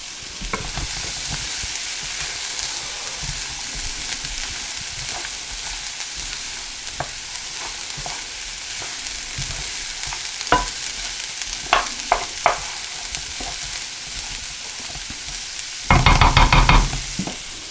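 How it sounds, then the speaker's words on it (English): Cauliflower rice risotto cooking with butter in a pan, steady close sizzling throughout with occasional scraping stirs and a brief louder burst of clatter near the end. "I'm going to stir this up. I'm going to add the rest of that butter."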